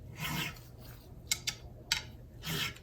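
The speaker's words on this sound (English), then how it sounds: "we're sanding the tool marks out off of the frets" Quiet rasping strokes of abrasive rubbing against guitar frets, a few slow sanding passes removing tool marks, with small sharp clicks between them, close and soft.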